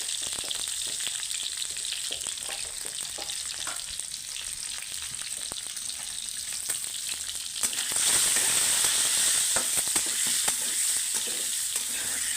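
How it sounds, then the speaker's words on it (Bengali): Eggs sauté with turmeric in a hot pan, producing a constant close-up sizzle with scattered stirring scrapes, growing louder and crackling more intensely partway through. "ডিম কষানোর জন্য অবশ্যই একটু হলুদের গুঁড়া প্রয়োজন।"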